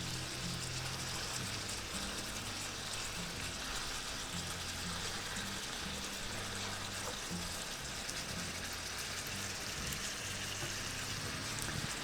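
Meat frying in oil for korma while being stirred, the oil reused from browning onions; a steady, even sizzle with a faint irregular bubbling layer continues throughout, with no voices.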